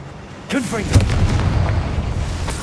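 A fiery Confringo spell blast goes off in the video game Hogwarts Legacy. A sharp burst hits at once, then a rolling boom follows, loud and close, and trails off into a low rumble.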